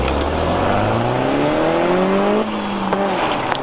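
Peugeot 308 GTi hot hatch accelerating hard, engine note climbing steadily through the gears with a brief dip at a shift, loud and close, no talk.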